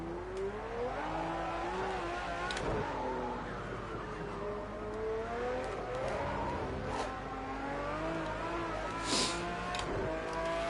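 Race car engine lapping Oschersleben in a racing video game, a continuous droning whine that rises and falls through gear changes, with faint tire noise and a few sharp clicks, steady and close throughout.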